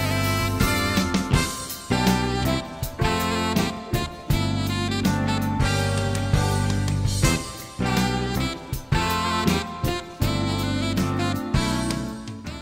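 A track by a Japanese jazz fusion band plays as a full band recording with steady rhythmic punches, loud and continuous with no talking over it.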